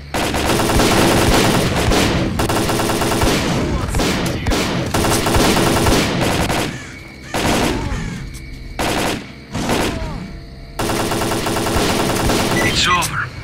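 Night firefight in S.T.A.L.K.E.R.: Call of Pripyat against a Chimera, with loud sustained automatic weapon fire in long bursts broken by brief pauses, close and dense throughout.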